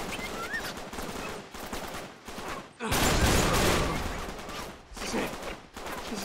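Sniper gunfire in Uncharted 3: Drake's Deception, a loud burst of overlapping shots and blasts dense at mid-clip, with scattered firing before and a further volley near the end.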